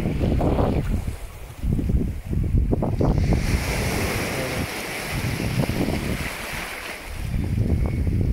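Sea waves wash and splash at Kawa Bay, a loud, continuous churning surge with heavy wind buffeting the microphone, rising and falling in rolling bursts throughout.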